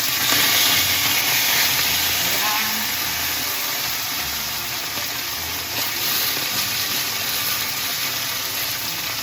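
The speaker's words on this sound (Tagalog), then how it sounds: "ilagay na natin yung ating isda. Mainit na yung mantika" Fish sizzles in hot oil in a pan, with a loud, steady hiss and crackle that holds close and constant throughout, swelling slightly at the start.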